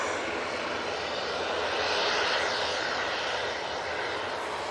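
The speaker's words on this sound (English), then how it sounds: "And the Etihad's taken quite a wide departure, going right over Barton on the way out." An Etihad airliner departing Manchester Airport, its engines a broad steady roar heard from a distance, sustained for several seconds without voices.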